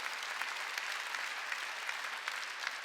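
A church congregation applauds, a dense steady wash of many hands clapping throughout, fairly loud and even, with no clear speech over it.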